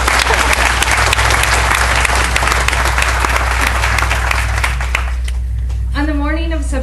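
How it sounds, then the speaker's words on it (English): Loud, dense audience applause at a veterans' award ceremony, a sustained roar of clapping that fades near the end as a voice begins speaking. "Give her a round of applause."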